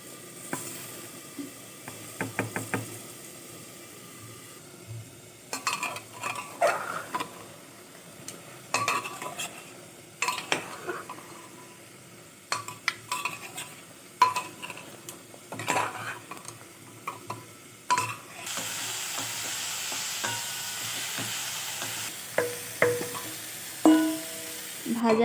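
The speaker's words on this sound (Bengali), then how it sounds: "ভাজা আলু আর সমস্ত ভাজা সবজিগুলো প্রেসার কুকারের মধ্যে দিয়ে আমি ভালোভাবে কষাতে থাকবো।" Fried potatoes, vegetables and chicken are stirred in a pressure cooker: a steady low sizzle broken by repeated metal scrapes and clinks of a spoon against the pot, growing busier toward the end.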